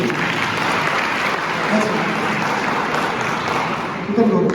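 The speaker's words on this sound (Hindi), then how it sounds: "एक बार जोरदार ताली होना चाहिए सबके।" Loud, sustained applause from a large audience at a motivational college seminar in Jaipur, dense continuous clapping filling the room and holding steady throughout.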